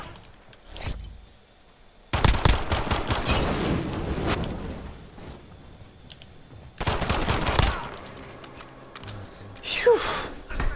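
Bursts of rapid automatic gunfire in a Modern Warfare Alpha 2v2 match, two dense volleys of several seconds each separated by quieter gameplay sounds, with a player talking at times.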